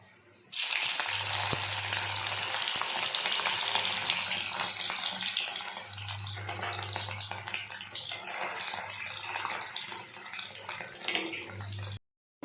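Pieces of paneer slide into hot white oil in a kadai and fry with a loud, continuous sizzle and crackle, the bubbling holding steady before cutting off abruptly at the end.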